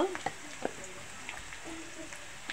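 Chopped onions softening in a pan for a spicy fish curry, giving a faint steady sizzle with a few light clicks of stirring, close and quiet.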